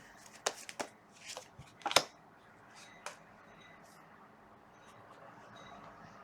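A deck of tarot-style cards is shuffled by hand in a quiet room: scattered soft riffles and flicks, a cluster of crisp card snaps in the first two seconds, then sparse faint rustles trailing off.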